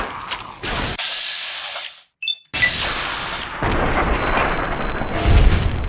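Rocket launcher explosions in a modded PC copy of Fallout New Vegas: loud broadband blasts and mechanical clatter, a brief near-silent gap, then a sustained roaring rumble that swells again at the end.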